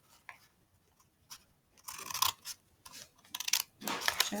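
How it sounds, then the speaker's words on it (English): Scissors cutting through paper for a lapbook craft, a string of soft snipping and rustling strokes that grow louder and busier toward the end, close up with no talking. "And I'm just going to keep on cutting like this."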